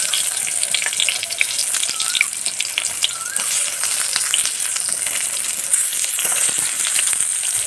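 Fritters (bora) shallow-frying in a small amount of oil, giving a steady, close crackling sizzle that runs throughout with no talk.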